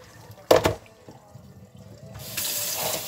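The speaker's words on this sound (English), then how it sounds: "Rinse it off again. It's cold water." Cold tap water runs from a faucet while raw pork sirloin is rinsed at the sink, with a loud splash near the start and a steadier, stronger stream building toward the end.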